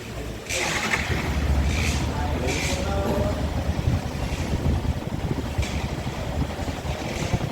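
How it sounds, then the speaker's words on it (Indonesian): A Yamaha WR155 motorcycle with an engine temperature warning fault starts and then idles with a steady, rumbling exhaust drone, accompanied by wind noise. "Oke, kita coba nyalakan terlebih dahulu motornya."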